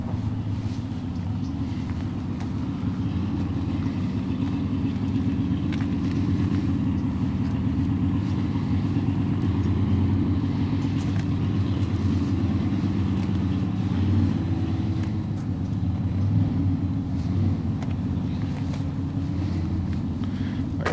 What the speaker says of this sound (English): You can hear some of the motorcycles being fired up next door at the Motel 6.